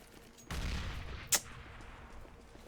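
A frag grenade explodes in a Counter-Strike match on the Overpass map, giving one sudden booming blast with a short rumbling tail and a sharp crack just after, heard alone with no talk.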